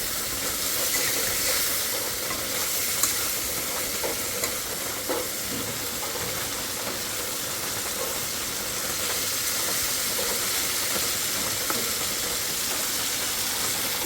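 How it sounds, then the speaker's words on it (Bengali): Fish frying in a pan alongside sponge gourd, a steady dense sizzle and hiss running throughout, close and fairly loud, with occasional stirring scrapes. "এখন আমরা মাছটা দিয়ে দেবো মাছটা একটু কষায়"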